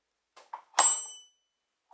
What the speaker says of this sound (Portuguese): Esta é a campainha que vai ser para a casa